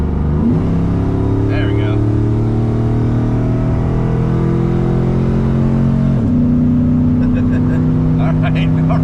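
An LS-swapped 1994 Chevy Silverado pickup drones along under load, the engine note holding steady then shifting after a gear change, heard from inside the cab with someone talking briefly over it.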